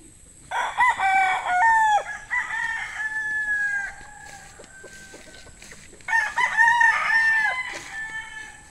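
An 18-month-old gamecock bull stag crows twice nearby, loud drawn-out calls with a pause between them, and quieter clucking in the background.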